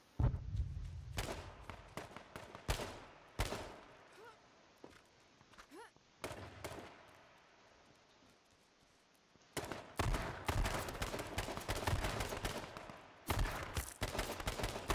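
Bursts of gunfire in the survival game H1Z1, sharp shots scattered in clusters across the stretch with quieter gaps between, some shots louder and nearer than others.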